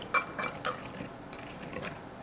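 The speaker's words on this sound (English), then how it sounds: "Stir it in." Baby food is stirred in a small bowl, producing soft, quiet scraping and a few light clinks of a spoon against the dish, close up and without talk.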